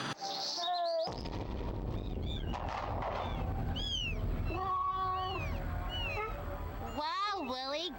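In the Amanda the Adventurer video game, a cartoon cat meows several times in rising, bending cries, mixed with bird chirps and tweets over a low background hum, with a voice talking among them.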